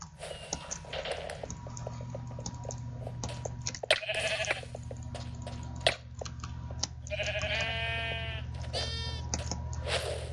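Two sheep bleats in Minecraft, during a Mineplex sheep-collecting minigame, rise clearly over steady game music and soft clicking, each lasting about a second, with the second bleat longer and wavering.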